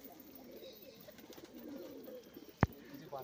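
Kotashi pigeons coo softly and steadily in a large indoor loft, a low murmuring backdrop broken by one sharp, loud click near the end.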